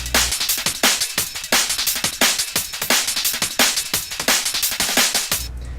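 A drum and bass loop with its lows cut sits under a kick and snare pattern, making a dense, fast, driving breakbeat with steady bright hits that stops abruptly near the end.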